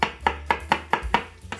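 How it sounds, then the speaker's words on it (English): A knife roughly chopping garlic on a cutting board, seven quick even thuds close up, with faint background sizzling. "we're going to roughly chop some garlic."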